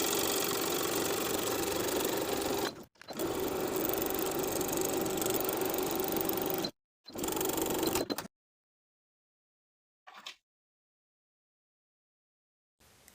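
A sewing machine stitches along just above a waistband seam on a pair of pants, whirring steadily in long runs broken by brief pauses, then stopping, with only a short burst afterward.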